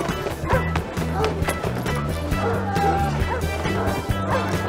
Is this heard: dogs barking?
yes